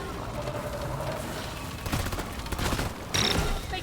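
Zhukov Nuk17 submachine guns with the Embedded Detonators overclock in Deep Rock Galactic, a dense fusillade of rapid gunfire amid combat noise, with a louder burst near the end.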